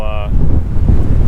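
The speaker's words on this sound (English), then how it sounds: "It's a little windy right now" A strong gust of wind hits the microphone at a cold, snowy winter campsite in Colorado's Roosevelt National Forest. The buffeting roar is loud and close and lasts the whole moment, after a brief tonal sound at the very start.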